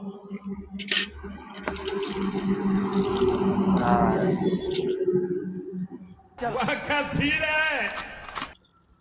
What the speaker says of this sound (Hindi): अब तो पानी भर गया है।